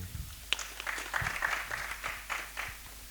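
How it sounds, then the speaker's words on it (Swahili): Brief scattered applause from an audience at a youth engagement event, a few seconds of light clapping at moderate distance, fairly faint with no one speaking over it. "Pigeni makofi jamani."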